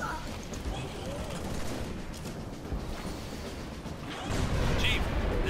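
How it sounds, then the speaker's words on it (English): A gun firing nonstop in Halo 3 makes a dense, continuous rattling roar of battle noise that thickens and grows louder toward the end. "Chief, that gun's been firing nonstop."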